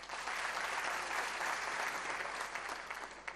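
An audience claps in a theatre at a festival, dense, even applause from a large crowd heard at steady loudness throughout, with no talking.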